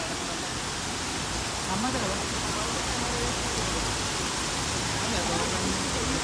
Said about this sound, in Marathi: पाऊस वाढलेला आहे खूप जोरात आता